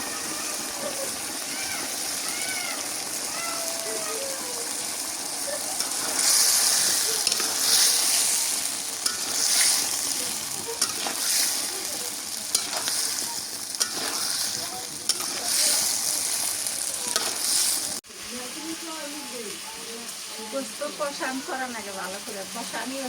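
Country chicken being stir-fried with firm potato pieces in a pan crackles with a continuous close sizzle, scraped and stirred throughout, and the frying tone shifts near the end.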